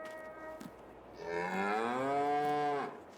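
Cattle lowing on a farm in a farming simulator game: one long, drawn-out moo swelling and fading over a couple of seconds, heard clearly with no talk.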